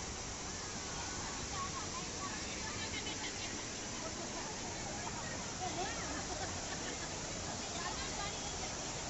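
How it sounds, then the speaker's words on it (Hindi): Loud, continuous rushing water roars without a break at Damodar Kund, Junagadh, a dense broadband wash like a fast stream or waterfall nearby. "पानी की धारा बड़ी तेज बह रही है"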